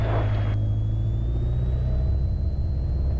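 A light aircraft engine runs loud and steady during a propeller exercise on the ground before a student cross-country flight, with a brief higher tone early on, then a smooth droning hum with a slowly shifting pitch.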